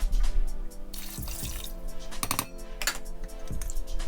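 Water poured from a measuring cup into a cooking pot holding one cup of rice, a few short splashing and trickling bursts close by with drips, quiet and alone.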